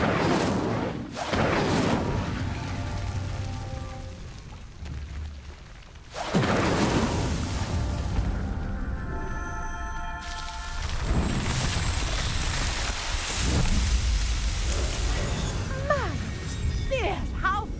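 Incendio fire spell cast in the Hogwarts Legacy video game to light three pyres, heard as loud, rushing bursts of flame roughly every few seconds over a dense, continuous game backdrop.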